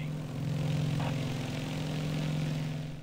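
Propeller engines of a Beechcraft Model 18 in Microsoft Flight Simulator, held at full throttle in level flight, drone steadily and evenly throughout with no speech.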